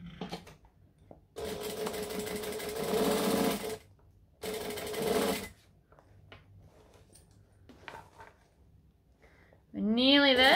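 A sewing machine runs in two bursts of steady stitching on a bowler bag, loud and close, with quiet pauses and a short bit of speech at the end.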